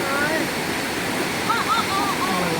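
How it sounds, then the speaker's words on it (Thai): Krathing waterfall in Chanthaburi, Thailand, pours in a steady, full rushing roar, close and continuous, with birds chirping faintly over the flow. "ค่ะน้ำตกกระทิงนะคะ"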